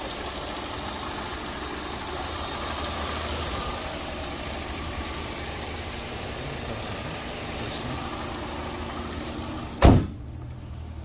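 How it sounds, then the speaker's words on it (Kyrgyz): A gasoline-powered 2017 Hyundai Sonata LF idles steadily at close range, a constant low engine hum running for about ten seconds before a sharp thump, like a door or hood closing, cuts it off. "Мотор жакшы эле иштейт."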